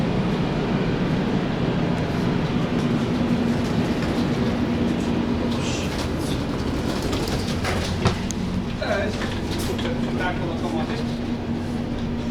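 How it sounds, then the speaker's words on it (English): A train to Warszawa Zachodnia rumbles steadily along the rails in Poland, heard from inside the carriage, a constant low roar with faint rattles and a quiet voice underneath. "We are on the train to Warszawa, Zachodnia"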